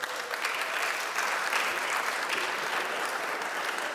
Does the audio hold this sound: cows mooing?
no